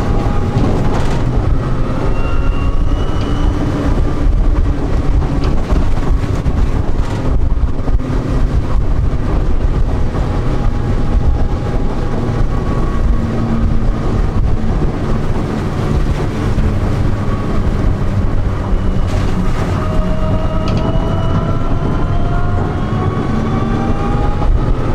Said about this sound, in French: Je sais pas si vous entendez aussi le bruit que le moteur fait. C'est vraiment un petit sifflement comme ça.